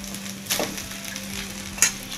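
Egg fried rice being stirred in a pan, a soft steady sizzle with a couple of scraping strokes of the spatula, close and fairly quiet.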